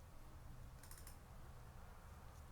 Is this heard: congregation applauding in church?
no